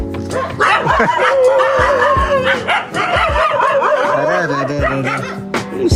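Dogs bark repeatedly close by, in a run of excited woofs and yips, with voices talking over them.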